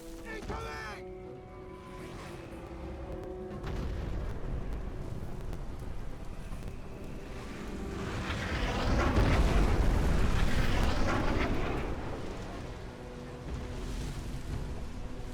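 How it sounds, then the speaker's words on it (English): Airstrike explosions in a video game build into a heavy, rumbling barrage that swells through the middle and then eases, layered with other game sounds and faint voices. "Airstrike started."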